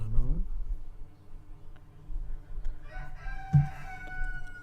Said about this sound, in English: you'll be hearing like chickens and ducks and dogs probably